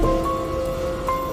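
Steady hiss of rain falling on a stormy night, a dense continuous wash with faint tonal hum running through it and no voices.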